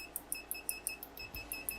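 A Kaiweets ST120 pen-style multimeter sounds its continuity beep, a string of short, sharp, high electronic pips repeating at a quick, steady rhythm, close and clear with no talk.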